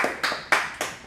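A few people clap at an outdoor suppressor demonstration, four separate sharp hand claps spaced unevenly and heard close, with no talking.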